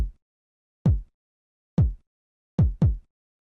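A pitched-down UK garage kick drum sample sounds alone, five deep punchy thumps with quick decays, spaced unevenly with the last two close together, separated by silence.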